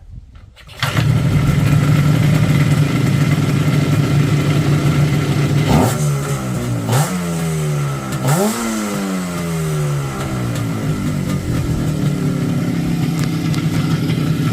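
An IZh Jupiter 5 two-stroke motorcycle engine starts up and settles into a steady, buzzy idle, with a few sharp throttle blips rising and falling midway, running loud and close.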